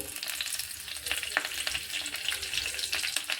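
Cumin, mustard seeds and curry leaves frying in hot oil for a tempering for sambar: continuous close sizzling, with frequent small pops and crackles scattered throughout, and no talking.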